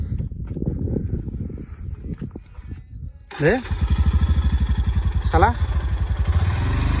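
A motorcycle engine starts and settles into a steady, close, chugging idle with a couple of revving bursts, on an open field where someone is learning to ride; voices talk before it fires up.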